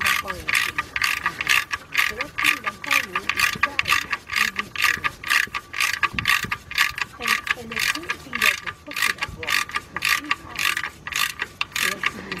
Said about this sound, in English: Let's tighten this back up.